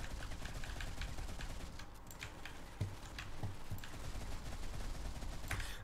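Sustained rapid weapon fire from the Golden Hans and Gret in the Modern Combat 5 video game, a dense, close stream of shots with a few sharper cracks along the way.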